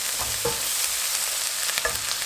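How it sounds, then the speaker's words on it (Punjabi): Chopped onions with turmeric, red chili powder and ginger-garlic paste frying in a pan for aloo palak, a dense close hiss of sizzling oil with a few soft stirring scrapes and no voices. "ਦੋ ਤਿੰਨ ਮਿੰਟ ਹੋ ਗਏ ਨੇ ਪਿਆਜ਼ ਆਪਣੇ ਭੁੱਜ ਕੇ ਤਿਆਰ ਹੋ ਗਏ ਨੇ"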